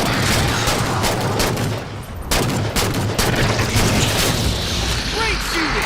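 Heavy Halo 4 campaign gunfire and booming blasts roar in a dense, continuous barrage of close shots, with a brief dip midway, while shouted voices call out over the combat.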